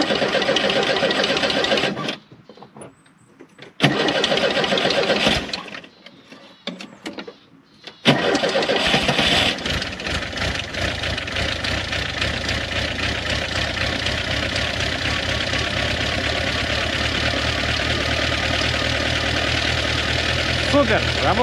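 A Moskvich-410N engine is cranked after a month standing in frost, with short starter bursts separated by quiet gaps before it catches and settles into a steady, loud running idle.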